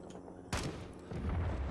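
A sudden loud gunshot in the Rising Storm 2 shooter game, aimed at a trap, followed by a rumbling burst of further gunfire and explosive noise close by.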